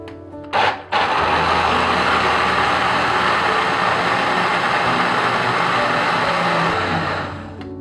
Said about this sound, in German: je 1/3 der Bohnen mit 500 Gramm Wasser für 3 Minuten pürieren